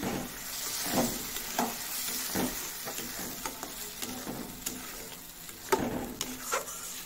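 Onions fry in a pan for a fish curry, a soft steady sizzle broken by periodic scraping strokes of a spatula as they are stirred, fairly quiet and close with no talking.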